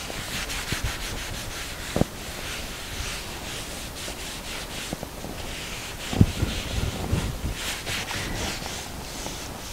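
A cloth or sponge wipes down a painted pour surface after a soap wash, making soft, uneven rubbing strokes with a few small knocks, close and fairly quiet.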